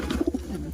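Pigeons at a sale give a few soft, low, close coos in quick succession over a steady low background hum.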